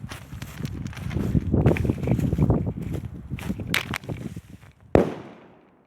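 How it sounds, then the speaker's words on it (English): A homemade airsoft grenade bursts outdoors with a sharp, loud bang that rings out and fades, coming after several seconds of rustling, shuffling handling noise. "Now, let's begin. To the explosion part."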